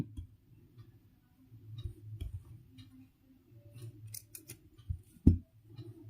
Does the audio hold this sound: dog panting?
no